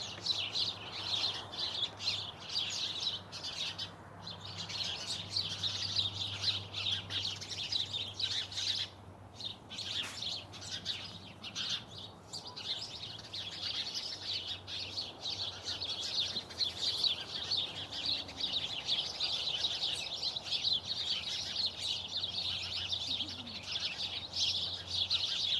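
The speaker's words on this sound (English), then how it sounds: "And they're over here behind me in these other bamboos too." Many small birds twitter and chirp without a break in backyard bamboo, a dense, even chorus with a soft low hum beneath and no talk.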